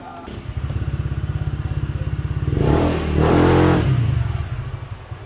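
A Honda Click V1 scooter with a WRC exhaust pipe, built in Motaro style, runs with a loud, close, steady pulsing putter. It revs up twice to a louder roar in the middle, then drops back to a rhythmic idle.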